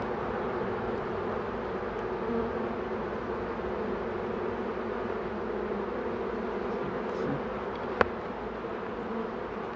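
A honeybee swarm hums as a dense, steady buzz that stays close and continuous throughout, with a single sharp click near the end.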